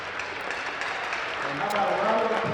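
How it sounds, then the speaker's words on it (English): Spectators at a high school varsity hockey game applaud senior player Nick Gideon, a sustained diffuse roar of clapping in an arena that swells slightly toward the end, with voices mixed in. "how about a round of applause for the 2008 Upper St. Clair varsity hockey senior"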